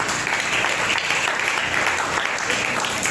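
A church congregation applauding, a continuous, even wash of clapping that holds at steady loudness throughout, with no pauses.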